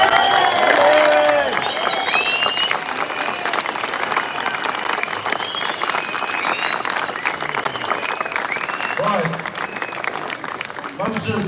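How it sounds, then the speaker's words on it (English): A large audience breaks into loud, sustained applause with cheering and whoops, a dense crowd roar that holds steady before tapering off near the end. "Please give her a massive round of applause."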